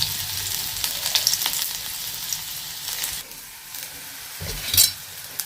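Small shallots and curry leaves frying in coconut oil for a crab curry meal, a dense hissing sizzle that flares and spatters briefly, then settles before a final burst near the end.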